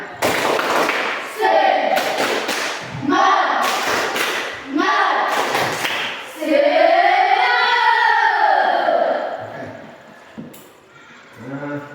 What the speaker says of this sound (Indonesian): Mari kita berikan tepuk semangat